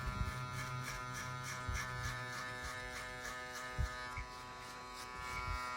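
A Supreme trimmer hair clipper buzzes steadily and close up at a barber's during a high taper cut, a continuous electric whine with faint shifts as it moves through hair.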